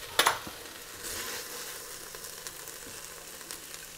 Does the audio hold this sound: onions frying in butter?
yes